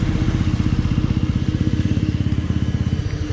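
A tuned Honda Wave 100 motorcycle with a 53mm big-bore block, 6.8 cams and headwork revs hard and close, its loud, rapid, even exhaust pulses throbbing steadily throughout.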